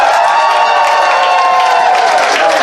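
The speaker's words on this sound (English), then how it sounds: "Crowd, one more time, make some noise for all of our dancers." A crowd at a furry convention dance competition cheers and whoops for the dancers, a loud, dense, steady roar of voices filling the room throughout.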